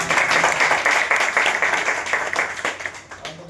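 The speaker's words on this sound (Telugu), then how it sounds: "మరొకసారి ఒక గ్రేట్ రౌండ్ ఆఫ్ అప్లాజ్ అండి" An audience gives a round of applause, a close and dense burst of clapping that fades out toward the end, with no voices.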